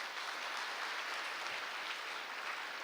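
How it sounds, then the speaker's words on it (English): Steady applause from a conference audience of students at a national homoeopathic conference in Coimbatore, dense and continuous, heard from some distance at moderate volume. "Please give a big applause to all of you."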